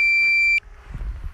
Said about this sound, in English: Alright, so the beeping should stop.